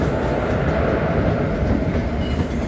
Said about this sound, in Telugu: అండ్ ఇక్కడ ఏదో ట్రైన్ వస్తుంది